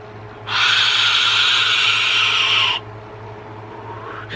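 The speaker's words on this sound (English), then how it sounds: "The airflow on this thing is so friggin' loud." A loud, steady airy hiss of air being drawn through a Ceto RDA vape atomizer with its airflow wide open, lasting about two seconds before cutting off abruptly, with a low hum underneath.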